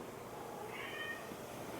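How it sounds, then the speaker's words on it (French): A pet cat lets out one thin, drawn-out meow at moderate distance, heard alone against a quiet indoor background. "c'est mon chat qui miaule"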